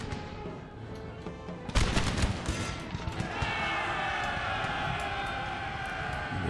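Musket volleys in the Napoleonic battle game Napoleon: Total War, a sudden crackling burst of many shots at once followed by scattered pops over a steady battlefield din, no speech.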